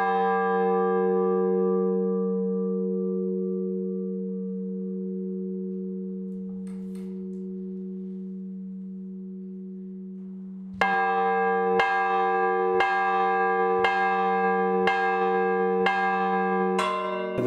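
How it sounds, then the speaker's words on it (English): A church bell hums as it slowly decays, then after a pause a bell rung in the English full-circle style strikes again and again at a steady even pace, clear and resonant with no talking. "the bell swings and the clapper stays still, and that's what makes the noise"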